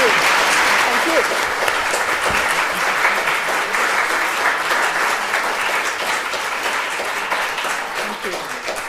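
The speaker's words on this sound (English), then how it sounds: "One more round of applause." Sustained applause from a lecture audience at the close of a public astronomy talk, dense and steady for the whole span, tapering slightly at the end, with a few voices in the crowd under the clapping.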